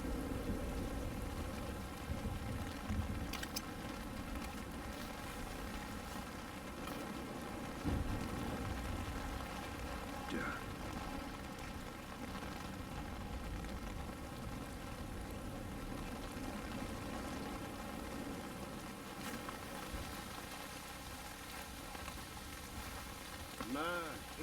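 Steady rain pours in Splinter Cell: Chaos Theory at night around a lighthouse guerrilla camp, a constant hiss of downpour with occasional louder drops and faint background tones, no voices.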